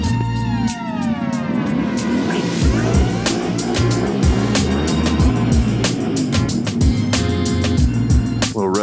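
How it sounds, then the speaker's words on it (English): Car engine bouncing off the rev limiter while driving through sandy mountain tunnels, loud and close, with rapid stuttering bursts and sharp cuts repeating throughout amid steady road and engine drone. "Little rev limiter. Just a little bit of rev limiter."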